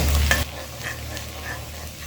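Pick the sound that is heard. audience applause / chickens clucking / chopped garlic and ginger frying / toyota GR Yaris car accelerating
chopped garlic and ginger frying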